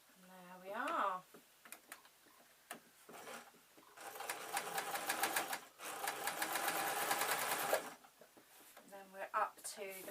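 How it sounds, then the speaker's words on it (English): A sewing machine stitches fleece slippers in short bursts of rapid mechanical whirring, with a couple of longer runs for reverse stitching, while a voice talks in the pauses between them. "stitch up to there and give it a couple of reverse stitches just to hold it in place"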